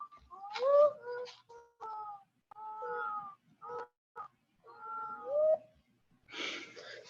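Children imitate mourning dove calls, giving a series of separate hooting, cooing phrases with short pauses between them, close and fairly quiet, followed by a brief burst of noise at the end.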